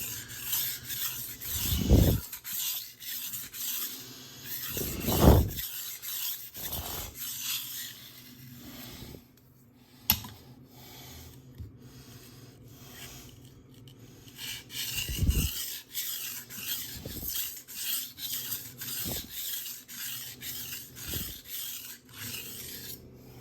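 A knife blade is sharpened on a Naniwa Chosera 600 grit whetstone, its rhythmic back-and-forth strokes rasping close by and quietly, with no one speaking over them.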